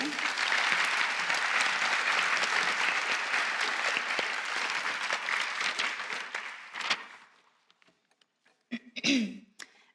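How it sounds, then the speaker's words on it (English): An audience at a fourth grade school promotion ceremony claps in dense, sustained applause that fades out after about seven seconds, followed by scattered coughs and throat clearing in a quieter room. "Please hold your applause until everyone has received their certificates."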